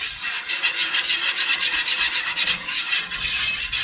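A spoon scrapes steadily around a pot of homemade mac and cheese, giving a loud, close, rhythmic rasping of repeated strokes with no talking.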